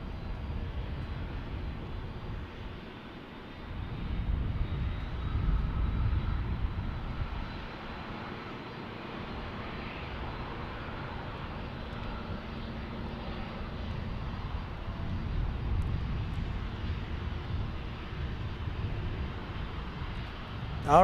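A fixed-wing airliner departs to the north from Salt Lake City airport, a steady distant engine roar that swells and fades over about twenty seconds, with faint rumble underneath and no talk.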